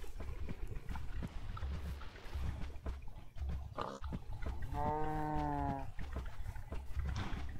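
A single cow moo rings out midway through the clip in the game Minecraft, on a modded survival island, over a steady low game background.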